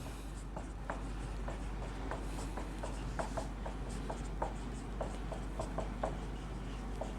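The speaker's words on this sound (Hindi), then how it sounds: "लिख रहा हूँ" Pen scratching on a board in a classroom, a steady series of short, distinct writing strokes close by, with a low background hum and no talk.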